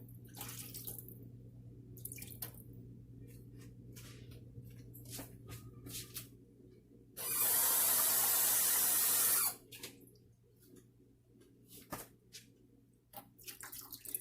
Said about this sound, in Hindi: और इसमें हम डाल देंगे 1 गिलास वाटर।